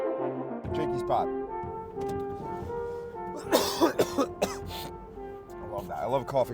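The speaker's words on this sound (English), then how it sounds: "I love coughing directly into the microphone." Someone coughs a few times close to the microphone, with throat clearing mixed into the talking around it.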